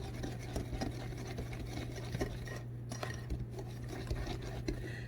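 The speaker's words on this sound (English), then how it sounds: "You really don't need to get out a mixer or anything. I mean, a whisk will do it." A hand whisk beats boxed pineapple cake mix batter in a bowl, giving a steady run of quick, soft scraping and clinking strokes against the bowl, close up and fairly even throughout, with no talking.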